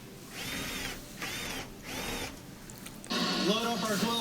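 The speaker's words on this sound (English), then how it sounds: "we're putting the 2 little Phillips head screws back in the front to hold the whole pump assembly into" A powered screwdriver drives small Phillips head screws into the drain pump assembly of a Samsung washer, with three short whirring bursts followed by a longer, louder run, close by.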